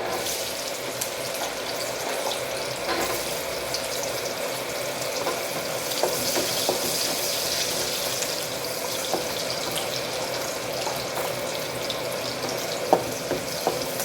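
Garlic frying in hot oil with crackling mustard seeds, a steady close sizzle and spatter running throughout with occasional small pops.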